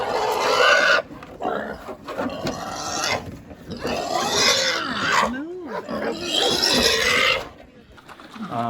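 Pigs on a farm hit by a forest fire grunt and squeal in harsh, raspy bursts, loud and close, with brief pauses between rough outbursts and a few higher squeals.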